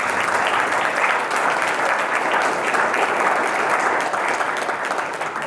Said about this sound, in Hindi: जोरदार ताली एक बार बजा दो।